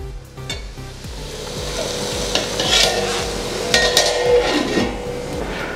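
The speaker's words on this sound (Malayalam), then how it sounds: "നമുക്ക് നമ്മുടെ മീൻ മുട്ട നന്നായി ഒന്ന് തട്ടിപ്പൊത്തി വെച്ച് നമുക്കൊന്ന് മൂടി വെക്കാം" Fish roe mashed and pressed in a pan for fish egg thoran, a rapid rhythmic train of close spatula taps and scrapes against the metal over a steady cooking sizzle.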